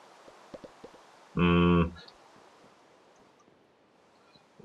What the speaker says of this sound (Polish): Najpierw sobie jeszcze napełnijmy wiadra z wodą.